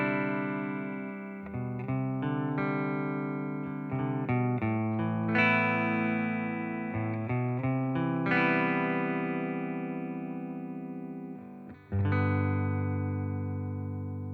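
Electric guitar through a TONEX twin reverb clean amp model, ringing chords and single-note runs played steadily and close up, bright and sustained with reverb tails and no voices.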